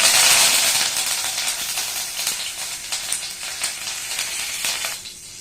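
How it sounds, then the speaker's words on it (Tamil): Mustard seeds and curry leaves sizzle and crackle in hot oil in a pan for a potato fry, a steady close hiss with scattered pops that eases slightly near the end. "கடுகு பொரியட்டும் இப்போ கடுகு பொரிஞ்சிட்டு இதில் வந்து கருவேப்பிலை சேர்த்துடலாம்"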